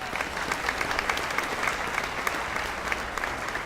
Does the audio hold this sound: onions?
no